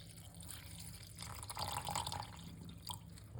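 Water running steadily as it is poured for a salt-water gut-cleansing drink, a soft continuous trickle at moderate level with a slightly fuller splash in the middle, no voices.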